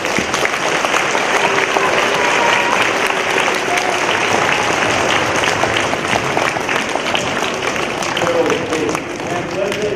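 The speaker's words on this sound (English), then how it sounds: "you all owe a round of applause to your principal, Mr. Mayor" Sustained applause from a school audience at an elementary school Veterans Day assembly, steady and full throughout, with a crowd murmur beneath.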